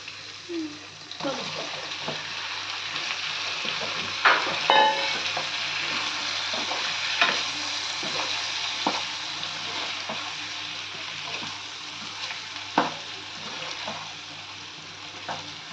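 Brinjals (eggplants) are stirred in a curry pan over a continuous sizzle, with frequent scraping and clinking strokes of a spoon against the pan. A few louder knocks stand out, and a voice speaks faintly now and then.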